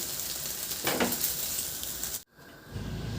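Scrambled egg frying in a pan, sizzling loudly and steadily up close with a brief stirring scrape. The sizzle cuts out abruptly and then returns more softly.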